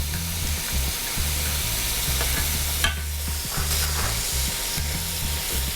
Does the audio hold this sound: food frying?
yes